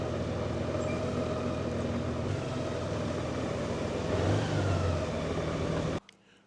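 A 2025 Honda GoldWing motorcycle rolls off its center stand and pulls away, a steady close engine drone and rumble that holds for about six seconds before cutting off abruptly.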